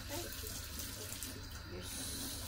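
Water is poured steadily into coffee, a continuous faucet-like rush and trickle that holds throughout at moderate loudness.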